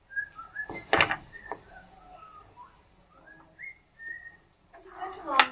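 A person whistles a wandering melody of short and held notes, fairly close, with a few brief bursts of noise and a louder burst near the end.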